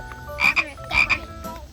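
A frog croaks in short, bright, repeated pairs of calls, fairly close and clear over a soft background hum, with no talking.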